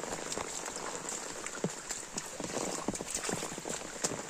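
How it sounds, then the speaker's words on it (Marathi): Heavy rain pours onto a forest road with running water and cattle walking along it, a dense steady patter with scattered clopping hoof-like knocks, fairly faint and without talk. "किती जोराचा पाऊस सुरू आहे"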